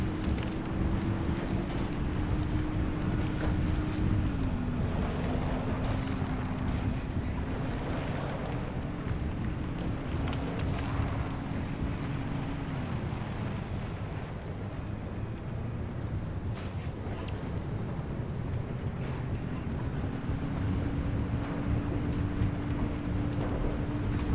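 Squall-force wind storm in the Pacific Drive video game, a loud continuous roar of rushing wind with a low droning rumble and shifting hum running steadily throughout, no voices.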